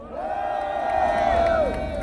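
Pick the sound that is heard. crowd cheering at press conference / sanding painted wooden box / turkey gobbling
crowd cheering at press conference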